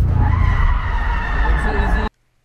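A Subaru on a race track roars loudly and skids with a sustained tire squeal and engine noise, close and continuous for about two seconds before cutting off abruptly.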